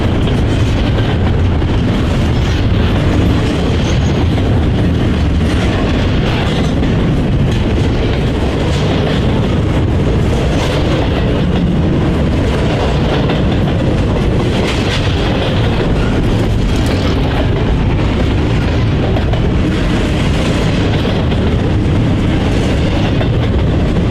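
Eastbound-style freight intermodal train 21T, a daily Harrisburg-to-Kansas City run, rolls past for a long steady stretch, its wheels clattering rhythmically over rail joints with a loud, continuous rumble and occasional faint squeal.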